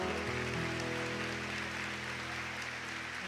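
A church congregation at a Quadrangular service applauds in a steady, dense wash of clapping that holds evenly throughout, with a low sustained tone running underneath.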